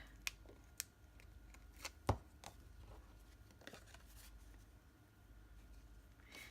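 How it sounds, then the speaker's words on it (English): Scissors snip through tape in a few sharp, isolated cuts, the loudest near the middle, against a quiet room hum with no talking. "So I'm just going to cut some more tape."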